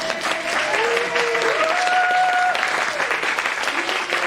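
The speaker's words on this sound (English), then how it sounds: "Please clap him." A seminar audience claps for a guest visiting from Italy, with a steady burst of fairly loud applause throughout while someone speaks over it.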